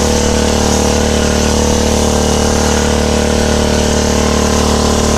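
Small grass cutter engine running continuously at a steady drone, loud and close, with no breaks or changes in pitch throughout.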